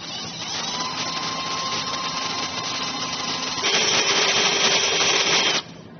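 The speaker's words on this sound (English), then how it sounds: "we're going to drill out our holes here" A power drill bores holes in hard steel while a roof rack is fitted to a 2017 Toyota Tacoma. Close and loud, it holds a constant grinding whine at slow speed. Partway through the pitch and intensity jump, and the sound cuts off near the end.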